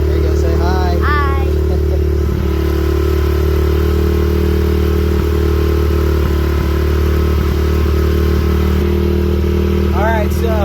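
A motorcycle engine warming up with the choke on holds a loud, steady, close idle throughout, with a few faint chirps and light clatter on top.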